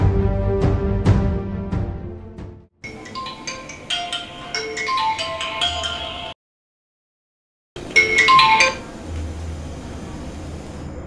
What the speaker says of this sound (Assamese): আহিল এটা ফোন।